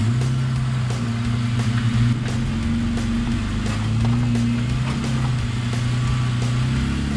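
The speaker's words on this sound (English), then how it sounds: "let's go and get a quick test drive in and see how it feels." A Jeep Wrangler fitted with an ICON steering stabilizer drives on a road test, its engine a steady, loud drone with a low hum and road rumble holding throughout and no talking.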